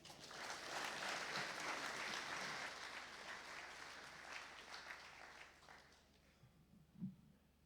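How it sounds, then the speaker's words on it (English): Audience applause at a national public health scientific conference in a hall, a sustained, fairly even wash of clapping that slowly thins and fades toward the end. "With a warm round of applause, please welcome with me Dr. Faisal Shuaib."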